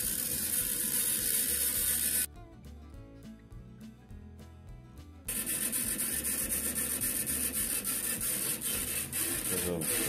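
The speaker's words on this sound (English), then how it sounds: "So we're gonna have to grind that off." Grinding on a stacked-leather knife handle and pommel gives a steady abrasive rasp with a low machine hum, cutting out for about three seconds midway and then resuming with rhythmic scraping.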